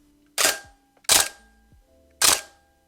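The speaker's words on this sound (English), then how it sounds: "featuring a sweet interchangeable back, earth-moving focal plane shutter" A Bronica S2A medium format film camera from 1969 fires its loud focal plane shutter three times, each a sharp mechanical clack with a brief rattling tail, spaced about a second apart in an otherwise quiet room.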